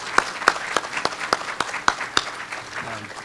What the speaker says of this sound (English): So one more round of applause, and that's for Katie Walters and the Leadership Kitsap board, please.